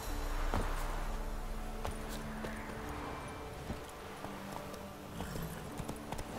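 A horse ridden in The Witcher 3, its hooves clip-clopping in a steady trotting rhythm over low background noise, fairly close, with no talk.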